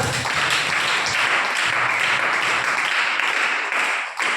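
A crowd claps loudly and continuously, a dense, steady burst of applause that fades slightly at the very end.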